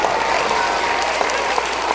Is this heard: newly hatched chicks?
no